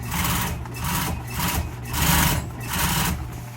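A sewing machine runs top stitching along the body side of custom pads, its motor humming steadily and surging in rhythmic bursts about every half second, with no voices.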